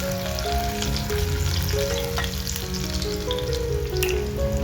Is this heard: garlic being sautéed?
yes